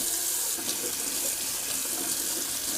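Steady running faucet water rinses a Rex Ambassador safety razor under the tap in a sink, a continuous close hiss and splash without pauses.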